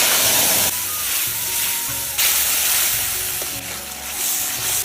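Whole garam masala, cumin, bay leaf and dried chillies fry in hot oil with a loud, steady sizzle that swells in bursts as more spices drop in, without talk.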